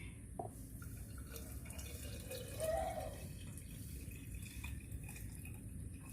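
Water is poured into a jar holding sugar for a turmeric and galangal drink: a faint, soft pour that swells briefly midway, half buried in steady background hiss.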